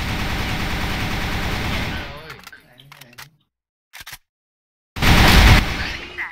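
Rapid automatic gunfire bursts loudly in a shooting video game, breaks off into scattered shots and silence, then returns as another dense volley.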